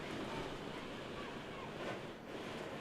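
Steady roaring wind buffeting the microphone at an outdoor softball game, a constant dense rumble that barely lets up.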